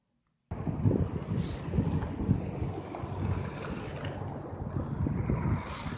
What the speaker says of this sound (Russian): Вот такая Караганда вечерняя. Период буранов. Ветер задувает.